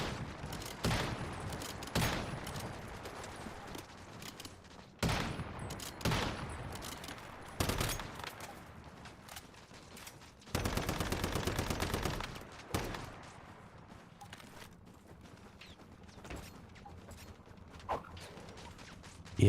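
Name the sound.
automated turrets firing guns in Once Human video game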